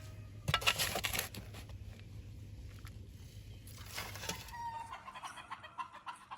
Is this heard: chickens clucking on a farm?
yes